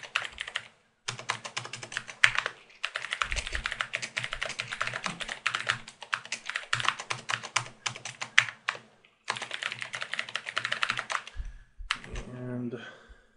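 Someone types a Java Hello World program on a computer keyboard, with close, rapid key clatter in bursts broken by short pauses and a brief voice near the end.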